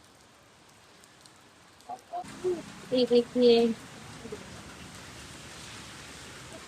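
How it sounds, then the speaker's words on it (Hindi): Heavy rain pours outdoors on the way to a DMart store, a steady broadband hiss that starts suddenly and keeps on, with a voice talking over it near the start. "ये देखिए बारिश"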